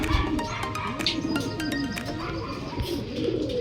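Pigeons cooing close by in a loft setting, repeated soft rolling coos layered over one another with light fluttering and scraping behind.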